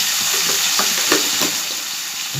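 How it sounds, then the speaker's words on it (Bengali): Ridge gourd and potato curry sizzles steadily in a pan, a continuous loud frying hiss with a few soft stirring scrapes and bursts, no talking. "একটু জল রেখেছি, এই জলটা দিয়ে দেবো"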